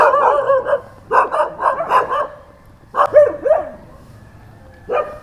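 Dogs on a mountain hiking trail bark sharply in quick bursts, pausing between clusters, then give a few more yips; close and loud with no talking.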